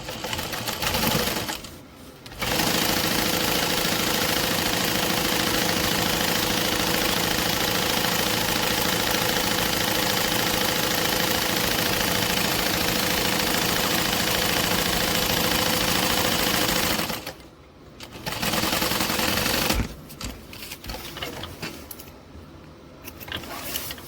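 Sewing machine running a 3/8 inch seam at a 3.5 stitch length, a steady loud whirring hum that stops briefly twice.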